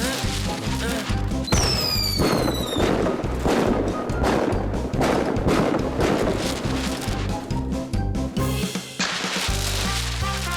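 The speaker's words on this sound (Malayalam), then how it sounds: "ബണ്ണി 8 പ്രാവശ്യം പൊട്ടുന്ന പടക്കം പൊട്ടിക്ക്" A cartoon firecracker goes off in a rapid string of sharp bangs and crackles, opening with a rising whistle, all set over lively cartoon music that keeps playing between the bursts.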